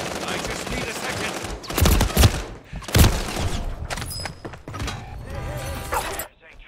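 Gunfire rattles in Call of Duty Warzone, with bursts of automatic shots, thuds and mechanical clatter over a loud constant game soundscape, and game voices speak at times.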